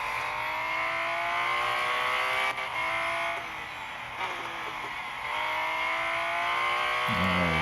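A Porsche 935 race car from 2019 lapping the IMS Road Course in a racing game, its engine droning loudly and steadily with rising pitch through the gears, brief dips at each upshift, alone without voices.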